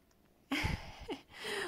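A young cat gives a few short, rising meows close by, quiet and chirpy, with brief pauses between them.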